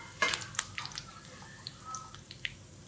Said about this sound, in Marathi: आता मी फोडणी देऊन घेते।